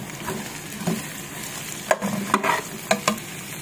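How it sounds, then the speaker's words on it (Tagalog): Garlic and onions sauté in a pan for beef kaldereta under a constant close sizzle. A spatula stirs and scrapes in several short bursts toward the end. "Pag medyo mapula na ang bawang, lagay na natin yung sibuyas."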